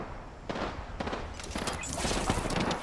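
Gunfire in the video game Apex Legends, rapid bursts of shots and impacts over a busy, noisy battle mix, fairly loud and continuous across the stretch.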